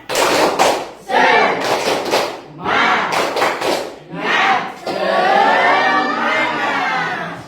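A classroom of children performs a rhythmic spirit clap, loud close bursts of group claps and shouted chant in several patterned rounds, ending in a longer sustained chorus of voices.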